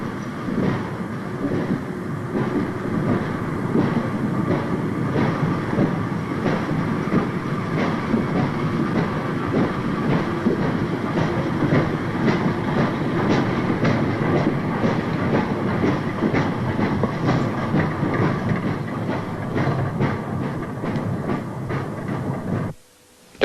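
A passenger commuter train on the Erie line runs steadily along the tracks, a continuous loud rumble with rhythmic clickety-clack of wheels over rail joints throughout, fading abruptly at the end.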